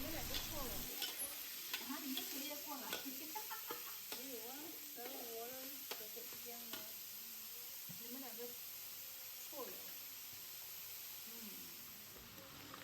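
Ground pork frying in a pan for Pohpiah filling gives a steady close sizzle broken by repeated stirring scrapes, with a voice talking over it throughout.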